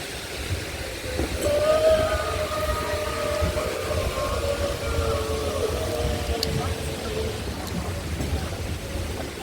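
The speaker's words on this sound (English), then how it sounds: "Here comes the train." A train rumbles past in Brisbane with a long, wavering horn or whistle tone over a steady low roar from the rails.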